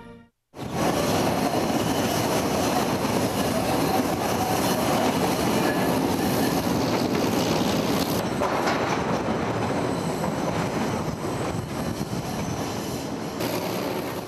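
A six-car train climbing through the Andes at 3,200 metres altitude: steady, loud rolling rumble of wheels on rails with faint squeals and clatter, continuous throughout, no talk.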